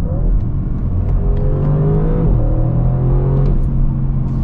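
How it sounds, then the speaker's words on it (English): A 2020 Audi RS6 Avant V8 revs and accelerates with a deep, throaty roar, loud and close, rising in pitch before settling into a steady rumble. "That noise is just such a V8 grunt."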